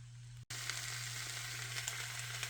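Mushrooms and a medium onion sauté in a pan, giving a steady, close broadband sizzle that cuts out for an instant near the start, then resumes with faint pops and crackles throughout.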